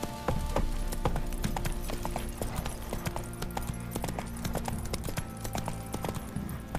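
Hooves of Roach, a horse in The Witcher 3, pound in a fast rhythmic clip-clop at a gallop, close and steady, with faint game ambience behind.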